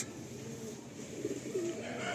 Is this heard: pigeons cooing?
yes